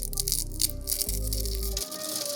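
Dried peppers, fully dehydrated after 6 to 8 hours on low, shaken so they rattle with a dry, papery crackle and tearing rustle, steady and close for a couple of seconds.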